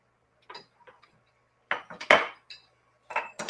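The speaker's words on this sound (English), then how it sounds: "as it heats up, we've got to keep constantly stirring because we don't want anything to scorch" A spoon scrapes and clinks against a metal pot as a mixture heats toward a boil, coming in short irregular bursts of stirring separated by quiet gaps, close and fairly clear.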